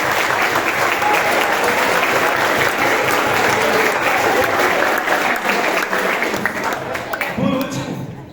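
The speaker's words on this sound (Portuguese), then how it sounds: "Então, uma salva de palmas para vocês." Dense, continuous audience applause filling the room, steady and loud almost to the end, with a voice surfacing briefly as it tails off.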